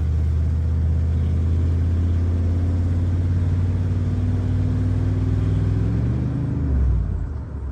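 A worn vehicle with a failing transmission accelerates hard, its engine rumble climbing steadily in pitch under load before dropping sharply as it shifts from first into second gear, close and loud with no talking.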